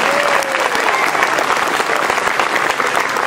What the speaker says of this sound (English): There we go, big round of applause.